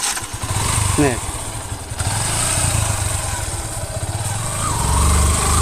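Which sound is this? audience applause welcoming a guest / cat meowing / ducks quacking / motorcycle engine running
motorcycle engine running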